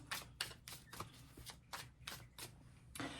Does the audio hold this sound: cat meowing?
no